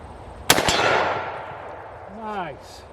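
A 30-30 Winchester Henry Golden Boy lever-action rifle fires once at a steel gong on a shooting range, a sharp crack followed by a ringing metallic clang that fades, then a brief voice.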